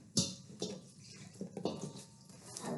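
About a cup of water is poured into flour and salt for a dough, giving a few close, uneven splashy gushes and trickles in short bursts, with no voices.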